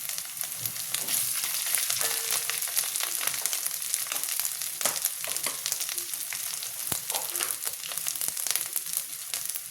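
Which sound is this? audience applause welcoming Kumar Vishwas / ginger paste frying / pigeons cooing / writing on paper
ginger paste frying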